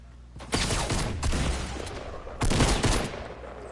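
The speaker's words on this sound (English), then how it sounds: "There has to be some type of shooting going on." Bursts of gunfire in a shooter video game, loud and close, come as two dense volleys of rapid shots with a short lull between them.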